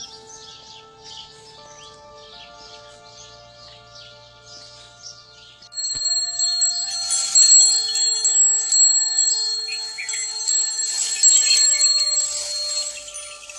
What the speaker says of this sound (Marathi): हा घंटीचा आवाज म्हणजे आमच्या शेतीचं संगीत.